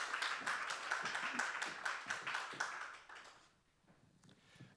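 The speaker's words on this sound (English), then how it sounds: "can we please welcome to the stage our act for part 4, the fantastic comedian, Miss Nicci Take" Audience applause welcoming a comedian on stage at a live Edinburgh Festival show, a modest scattering of claps from a small crowd that thins out after three seconds into a few stray claps.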